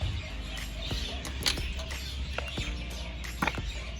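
Birds squawking and clucking in a noisy, busy background, with short calls and chirps repeating irregularly over a constant low rumble.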